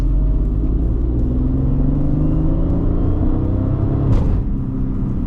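A supercharged 2003 Mercedes-Benz C32 AMG V6 accelerates toward 100: a steady, loud engine drone rises gradually in pitch, with a brief whooshing burst near the end.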